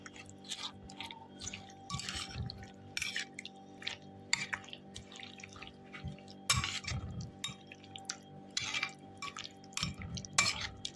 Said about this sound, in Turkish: Şimdi güzelce karıştıralım.